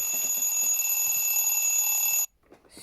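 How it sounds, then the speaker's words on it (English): An alarm clock rings loudly and steadily with a bright, sustained electronic tone, then cuts off abruptly near the end, leaving faint room sound. "Stupid alarm."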